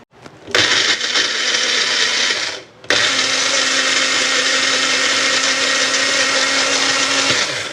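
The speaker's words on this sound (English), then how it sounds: "we're gonna blitz this up, and then we'll take it to the stove" A blender blitzes peanut sauce with soy sauce, roaring loud and steady, cutting out briefly for a moment, then starting up again and running evenly to the end.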